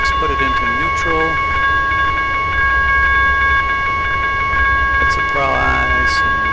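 Train rolling on track in the Trainz 2010 railway simulator: steady, dense rumbling rail noise with constant hum, under a man's intermittent speech.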